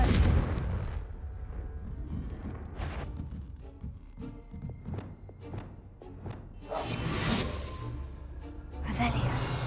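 Confringo blasting spells go off in the Hogwarts Legacy video game as a series of booming bursts and whooshes, with loud crashing blasts near the start and end and speech mixed in.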